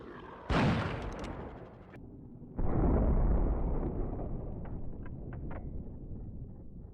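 Two heavy shotgun blasts in Duke Nukem: Zero Hour, each a loud booming crack followed by a rolling decay, the second blast sustaining longer with faint clicks and rattles trailing after.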